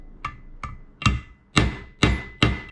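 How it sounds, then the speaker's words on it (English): Six sharp metallic taps as a 19 mm socket drives a seal into a Honda CB360 motorcycle engine case, evenly spaced and growing louder, with nothing else heard. "use, this is a 19 millimeter socket, and just tap it down in there"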